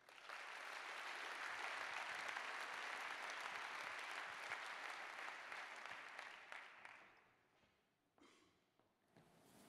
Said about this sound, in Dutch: Uw applaus voor Fons van Wieringen